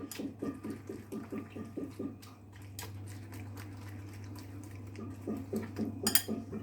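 A utensil clinks rhythmically against a bowl while omelette mixture with kashar cheese is stirred, quick tapping strokes over a low steady hum, fairly faint.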